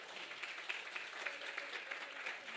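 An audience at a New York City nonprofit campaign kickoff with the mayor claps steadily. The applause sounds soft and somewhat distant, with a dense patter of hands and no voices.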